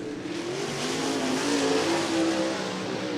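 Late model race cars roaring around the Cottage Grove Speedway oval during a heat race, a dense sustained engine drone with rising and falling revs from several cars at mid distance, steady and loud.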